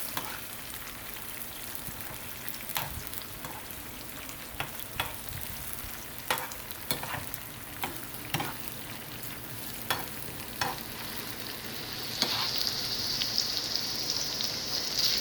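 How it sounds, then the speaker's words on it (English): Food sizzles and fries steadily in a pan, with scraping stirs and clicks of a utensil; the hiss grows brighter toward the end. "You just keep stir frying for like 3 to 4 minutes."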